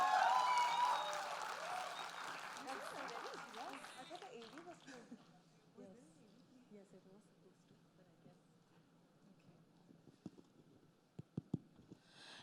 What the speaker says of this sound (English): A round of applause once more for the beautiful Kriti Sanon